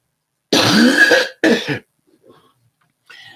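A person with bronchitis coughs loudly up close, one long harsh cough followed by a shorter one, then quieter throat sounds after a pause.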